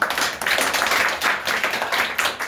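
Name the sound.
class clapping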